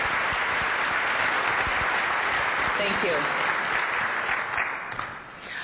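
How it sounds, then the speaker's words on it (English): Big round of applause from an audience at a Wisconsin international trade conference, steady dense clapping sustained for several seconds and easing off near the end, with a brief spoken thanks over it. "Let's have a big round of applause for Chippewa Valley Bean Company."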